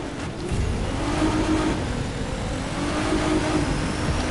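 Nissan GT-R R35 engine in The Crew 2 racing game, a steady droning hum with rising and falling revs throughout, moderately loud and continuous with no talk over it.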